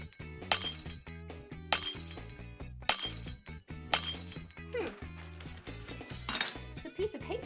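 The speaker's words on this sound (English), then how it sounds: "put on your safety goggles and break the glass." Glass smashes and shatters in several loud, sharp bursts, each followed by tinkling fragments and clinking shards, repeated roughly once a second.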